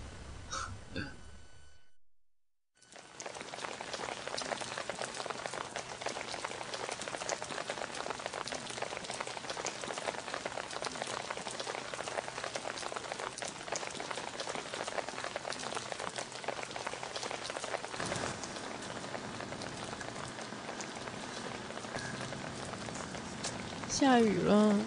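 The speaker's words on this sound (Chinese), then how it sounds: "下雨" Steady rain pours down as a dense, even hiss that carries on unbroken for over twenty seconds after a brief silence at the start.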